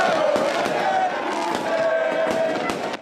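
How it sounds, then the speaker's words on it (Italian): A crowd of handball fans chants and cheers loudly to welcome their team home after a cup win in Sicily, while sharp bangs of fireworks or firecrackers burst through the din. "ad attenderli c'erano i tifosi con cori e fuochi d'artificio"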